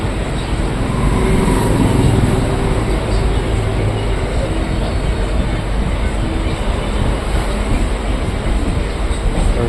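A train runs steadily on the rails near the Vidyasagar Setu, giving a continuous loud rumbling roar with faint rhythmic clatter throughout and a voice speaking briefly over it.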